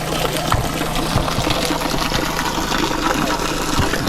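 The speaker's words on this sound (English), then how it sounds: "And you can see in spring water, natural spring water running from here." Natural spring water runs steadily and loudly at an outdoor spring in Mandeville, Jamaica, a continuous close-up rush with no pauses.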